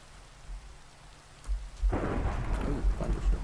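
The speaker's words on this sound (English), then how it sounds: "Ooh, thunderstorm." Minecraft thunderstorm with rain: a steady hiss of rainfall builds, then deep rolling thunder rumbles in around the midpoint and keeps booming loudly under the pouring rain, with no talking.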